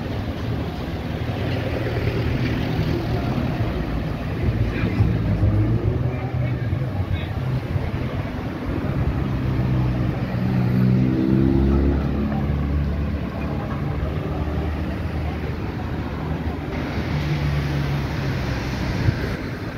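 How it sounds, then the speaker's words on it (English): Street traffic at the Trafalgar Square taxi stand on Broad Street in Bridgetown, Barbados: a continuous low rumble of engines and passing vehicles with wind noise, voices talking under it throughout. "Trafalgar Square taxi stand"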